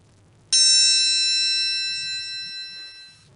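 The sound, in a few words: high-pitched test tone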